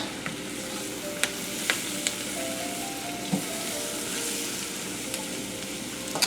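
Vegetables for étouffée fry in a pan with a steady, close sizzle, broken by a few sharp clicks and scrapes of stirring utensils against the pan.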